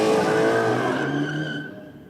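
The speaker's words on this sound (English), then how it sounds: "there's no mistaking a Coyote doing a burnout, is there?" A Ford Mustang with a Coyote engine does a burnout at a no prep drag racing event, with tyres screeching and the engine roaring loud and close, then quickly fading.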